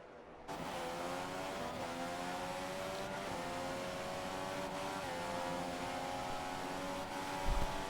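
F2 racing cars in a racing video game whine at high revs, several engines layered in a continuous close roar, with brief dips and downshifts as they fight for position.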